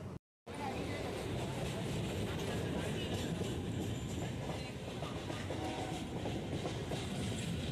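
A Hasnabad line local train runs steadily along the rails, a loud continuous rumble with a faint rhythmic clatter that never lets up.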